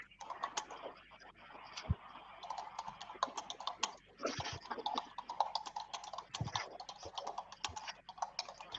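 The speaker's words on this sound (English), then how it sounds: "I can hear hamster typing." Rapid clicking of keys on a computer keyboard, a steady irregular patter of taps close to the microphone with occasional louder strokes, continuing alone without speech.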